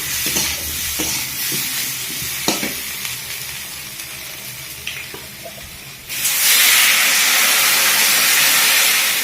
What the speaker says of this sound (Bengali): কষাইটা হয়ে গেলে এবার জল দেবো